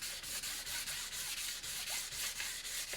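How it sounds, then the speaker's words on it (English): Quick rhythmic back-and-forth strokes of 800 grit sandpaper rubbing over a carbon fibre skin, a soft, even, close-up hiss repeating about four times a second with no talking. "I'm now on 800 grit."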